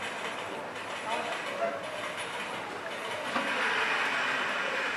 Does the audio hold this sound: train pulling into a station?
yes